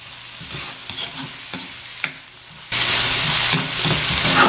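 Vegetables stir-fry in a pan over raised heat for fried rice, with soft sizzling and spatula knocks at first, then a sudden loud, sustained hiss as the pan gets hotter.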